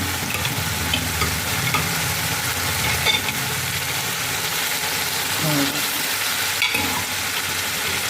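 Free-range local chicken meat sizzles and fries in a pan while being stirred, with scraping and clattering of the utensil over a continuous steady frying hiss.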